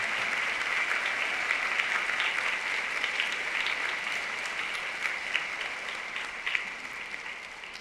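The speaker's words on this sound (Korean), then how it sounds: "여러분 힘찬 박수 부탁드리겠습니다" A hall audience at a university's 140th anniversary ceremony applauds an alumna award recipient, giving sustained, even clapping at moderate distance that continues throughout without speech.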